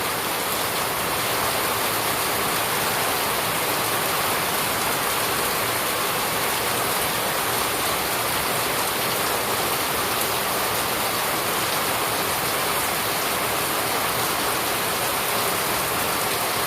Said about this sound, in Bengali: প্রচুর বৃষ্টি হচ্ছে মানে আধা ঘন্টা যদি হয় তাহলে একটা জেলা ডুবে দিতে পারে এরকম একটা অবস্থা